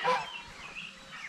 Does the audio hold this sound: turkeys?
yes